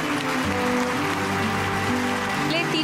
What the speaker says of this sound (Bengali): কর্পূরীর জন্য হাততালি হোক একটু জোরে